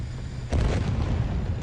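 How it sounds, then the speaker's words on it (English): A munition truck blows up in the combat flight game Nuclear Option, a sudden deep boom that swells into a sustained rumbling roar with crackling debris, loud and close, with no voices. "A munition truck, my favourite target of all, because they always explode quite spectacularly."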